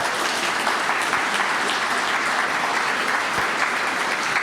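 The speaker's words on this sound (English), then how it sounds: "Let's have a little round of applause for Gianna here." Sustained audience applause at a Nerd Nite science talk, dense and steady throughout at full strength, a crowd clapping together without pause.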